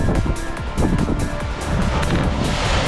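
Sea waves around a sailing boat on an Atlantic crossing toward the Azores, a steady loud wash of water and wind with rolling surges, with no voices.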